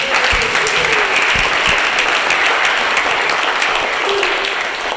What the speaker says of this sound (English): so they too deserve a round of applause